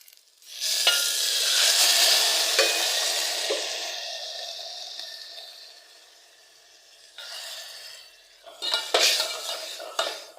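Boiling toor dal rasam is poured into a hot pan of tempering and erupts in a loud hissing sizzle that gradually fades. Utensils clink, and a second burst of sizzling follows.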